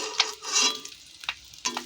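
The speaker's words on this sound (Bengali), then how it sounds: "বাটার দিয়ে ডিমগুলো ভাজা হয়ে গেল।" Eggs fry in butter in a pan, giving a soft sizzle and a few sharp, short scrapes and clicks of a utensil over about two seconds, close by and without talk.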